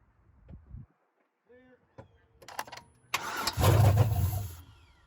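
A Chevrolet Suburban, an AWD Trans Am donor vehicle, cranks over briefly with a few short bursts, then catches and runs, settling into a loud rough idle up close after several seconds of intermittent cranking.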